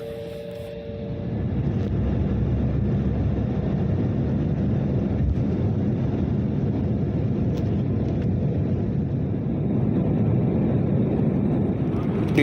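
Steady, loud broadband roar fills the cabin of an Air Canada airliner in flight to Toronto, a constant drone that holds unbroken for the whole stretch, with no voices.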